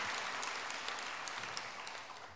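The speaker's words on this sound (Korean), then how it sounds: "여기다 박수 치시는 거 봐요." Church congregation applauding during a Korean Methodist Sunday worship service, a soft, steady patter of many hands clapping at a distance, fairly faint, with no talk over it.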